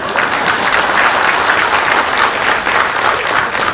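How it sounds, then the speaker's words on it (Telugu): Loud, dense clapping from a large audience during a speech by a judge, a steady roar of hands that holds at full strength for the whole stretch. "ఫస్ట్ మీరు బాగా చప్పట్లు కొడితే 20 నిమిషాలు నడిచినట్టు"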